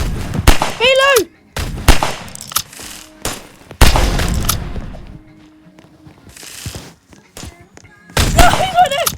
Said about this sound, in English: Oh, what a headshot, guys! Bang, he's dead.